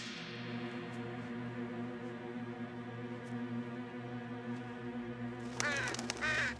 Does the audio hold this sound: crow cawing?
yes